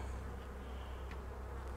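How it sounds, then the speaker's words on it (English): Honey bees buzz around an opened hive holding a good load of honey, a steady dense droning swarm that fills the whole stretch with no pauses, fairly close and even in loudness. "These bees are not as happy as can be"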